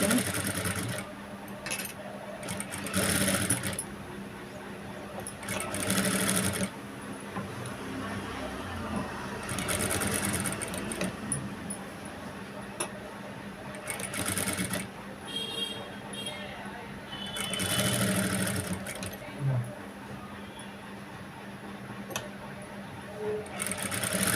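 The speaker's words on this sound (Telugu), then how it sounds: "సూది ఆపుకొని స్టిచ్చింగ్ చేసుకోవాలి" A domestic sewing machine with a normal presser foot stitches thread piping onto a boat neck, running in repeated short bursts of rapid whirring with pauses, beneath someone talking steadily throughout.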